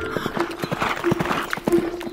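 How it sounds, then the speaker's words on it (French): Rhythmic clip-clop of horse hooves, steady and close, with a bright ringing tone recurring alongside the beats. "Fais le cheval blanc qui galope au vent"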